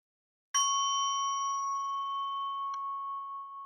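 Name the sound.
bell ringing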